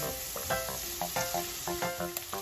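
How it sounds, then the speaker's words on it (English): Sausages browning in a pan on the stove for Southern fried cabbage, giving a steady close sizzle broken by short tonal scrapes and clinks, with no talking. "I just want our sausages to get browned up."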